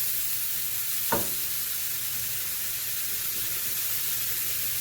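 Precooked shrimp heat through in a pan as a fajita filling, giving a steady, close, fairly quiet sizzle and hiss with one brief utensil knock near the start and no talking.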